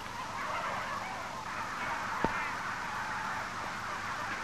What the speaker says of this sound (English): The approach of Christmas leaves these white gobblers distinctly cold.